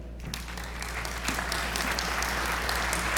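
Audience applause at an academic lecture on antioxidant chemistry welcomes a speaker, a steady wash of clapping that builds slightly and continues evenly, moderately distant in a hall.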